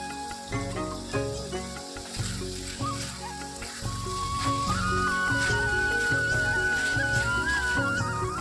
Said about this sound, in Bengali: এরপর আমি ভেজে রাখা পটল আর আলুগুলো দিয়ে দিচ্ছি।